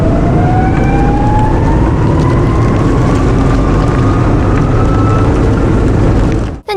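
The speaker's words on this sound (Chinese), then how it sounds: "大家注意听它这个引擎声啊，它就像飞机引擎一样" A Soviet T-80 tank's gas turbine engine starts up with a loud, jet-like roar. A thin whine rises steadily in pitch over the continuous rumble, then the sound drops off sharply at the very end.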